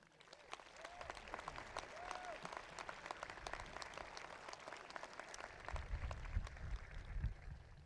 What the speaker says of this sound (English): Let's please give a round of applause to all of our graduates here today.